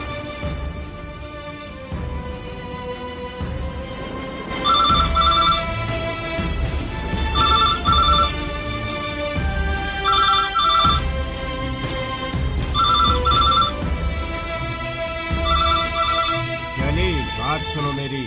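A telephone rings unanswered in a quiet room, its repeating electronic trill coming in regular bursts every couple of seconds over a low music bed, with no one picking up.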